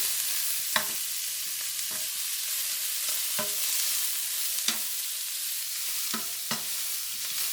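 Shrimp frying in a pan for ginger shrimp fried rice, a continuous close sizzle broken by several sharp scrapes and clacks of a utensil stirring, with no talking.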